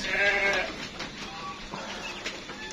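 Weaned lambs, Awassi, Texel and Dorper crosses, bleat repeatedly in a loud close chorus, with overlapping calls through a pen of livestock.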